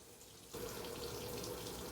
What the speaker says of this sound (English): So now I'm going to just take hot water and I'm going to just start dripping it in here.